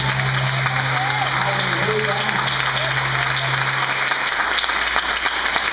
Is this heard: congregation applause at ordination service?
yes